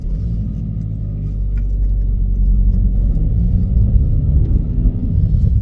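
A Volkswagen Golf Mk5 family car on the move, heard from inside as a loud, steady low rumble of engine and road noise with slight swells, no talk.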